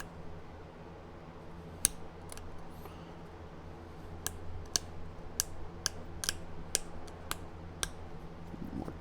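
Flint is trimmed by pressure flaking while shaping a Cahokia-style point. Sharp, crisp snaps ring out one at a time at uneven gaps over a quiet background, close and fairly loud.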